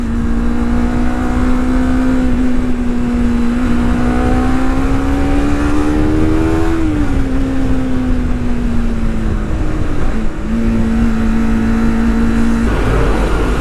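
Motorcycle accelerating in second gear up to about 7,000 RPM on a ride testing ester-based oil, a loud engine whose pitch climbs steadily, drops at a shift, then holds a strong drone.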